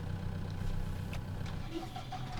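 A tractor engine idles in the farming video game Pure Farming 2018, a steady low rumble running throughout with faint higher clicks on top.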